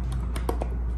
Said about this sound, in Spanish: A ver cómo se sienten los botones. Se sienten bien, casi como si fuera un teclado.